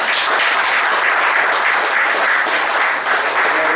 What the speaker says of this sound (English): Let us thank the madam for her valuable time and knowledge sharing with a round of applause.